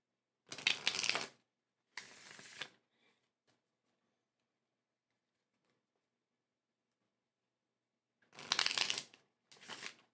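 A deck of playing cards is shuffled in two quick riffles, a pause of near silence, then two more riffles before a three-card reading.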